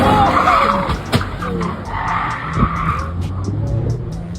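A Ferrari drifts with its tires squealing and skidding loudly, a sustained screech over engine roar and a sharp knock, with a voice in the background.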